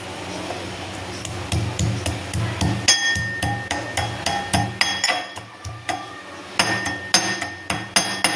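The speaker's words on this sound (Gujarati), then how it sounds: "એની માટે આપણે લસણને ખાંડી લઈશું" Garlic being pounded for a garlic and yogurt chutney makes sharp, rhythmic metallic strikes, close and repeated in quick bursts that grow more regular and forceful, with no talking.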